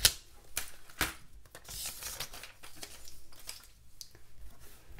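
Packaging around a Happy Planner Faith planner and journal is cut open, giving a run of sharp snips, crinkles and tearing rustles at close range, with no talking.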